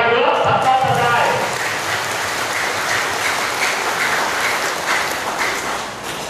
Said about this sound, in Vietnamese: một tràng pháo tay nữa thật to thật dài